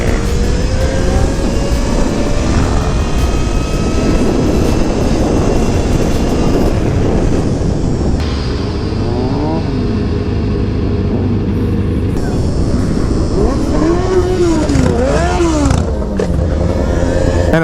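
A Zero FX electric motorcycle set up as a stunt bike accelerates hard, its loud motor whine rising and sweeping in pitch over steady wind and road noise throughout.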